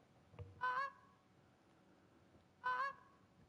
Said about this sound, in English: the size of these geese is reminding me of a swan, like how long their neck is